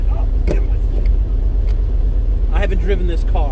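A 1987 Pontiac Fiero GT with a K20 engine swap drives with a loud, steady low engine rumble, while someone talks over it.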